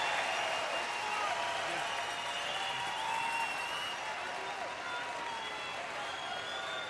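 A crowd at a men's world curling championship game between Canada and Sweden applauds and cheers steadily in an arena, with a commentator talking over the sustained clapping.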